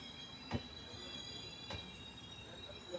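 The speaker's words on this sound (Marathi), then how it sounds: "आता ही ट्रेन आली रत्नागिरी दिवा पॅसेंजर, दिवाण कवठीला." Low rumble of the Ratnagiri–Diva passenger train arriving at a station, with two brief clanks and a faint steady high whine, like rolling stock easing along rails; no voices.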